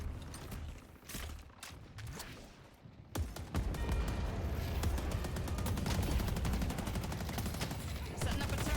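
Automatic turret gunfire in the video game Deadlock: rapid, loud bursts of shots that start sparse and then become a dense, continuous volley near the middle and run to the end, with game sounds mixed in.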